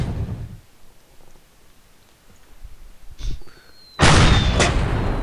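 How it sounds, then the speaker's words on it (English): Cannon fire in the pirate-themed ship battle game Blockland: a short boom at the start, a sharper shot near the middle, then a loud, sustained blast that swells and rolls on to the end. "cannons are more fun"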